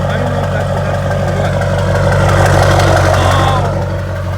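Duramax diesel truck in a squarebody build idling through a full 5-inch straight pipe exhaust, a loud, steady, deep rumble that swells briefly midway before settling, with a voice talking over it.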